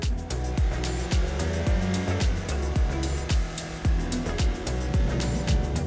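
A new Hyundai i30 N with the performance pack and DCT double clutch transmission drives hard, its engine note rising and falling in repeated surges over a steady road roar, loud and close with no speech.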